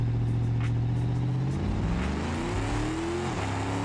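A drag car in the RLS career mode video game launches without nitrous and revs hard through its gears, engine pitch climbing steadily and loud throughout, with no talk.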